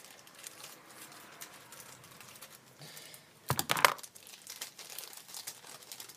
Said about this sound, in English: So I'll just be cutting it with these scissors.